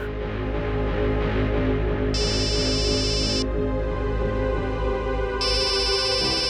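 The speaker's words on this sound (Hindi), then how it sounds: "दया का फोन?" A bright electronic ringtone sounds in two bursts a few seconds apart over a steady, busy background of music and noise.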